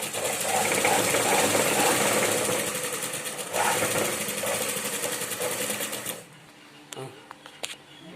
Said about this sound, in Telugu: ఇది హెమ్మింగ్ కోసరం అనేసి మనం ఈ విధంగా స్టిచ్ చేసుకుంటున్నాము